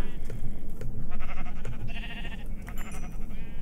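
Several Minecraft sheep bleat in short, wavering calls over a dense, steady game background noise, close and fairly loud.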